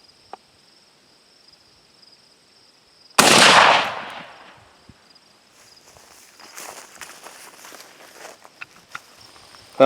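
A Girsan MC 312 semi-automatic shotgun with a modified choke fires one loud, sharp blast at a 40-yard target. Outdoor insect chirping fills the quiet before it, and faint rustling and clicks follow.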